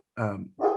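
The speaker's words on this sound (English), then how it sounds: "I apologize if you hear a dog barking." A dog barks indoors in two quick, loud, close barks spaced a fraction of a second apart, heard alone without talk.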